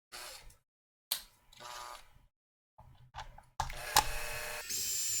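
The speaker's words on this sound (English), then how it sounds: "Together, electric screwdriver." An electric screwdriver whirs in several short bursts, then a longer steady run, as screws are driven or removed while repairing a Karcher WV50 window vacuum with a flashing red light fault; fairly close, no voices.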